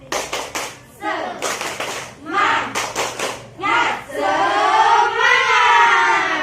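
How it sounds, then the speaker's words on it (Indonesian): Children chant an Indonesian classroom clapping cheer led by a teacher, hands clapping in sharp rhythmic bursts, loud and close, ending in a sustained group shout. "kalian ikuti ibu, kita akan tepuk semangat"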